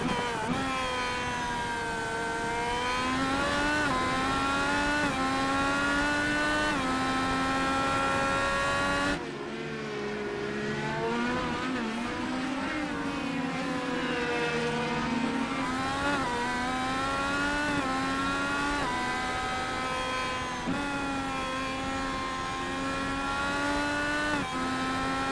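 IndyCar race cars on the Road America road course in the iRacing simulator, a continuous loud engine whine rising and falling through gear changes and braking, with one abrupt shift in camera perspective, no speech.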